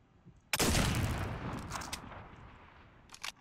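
A sniper rifle fires in a first-person shooter game: one sharp, loud crack followed by a long, decaying rumble, then a faint mechanical click near the end.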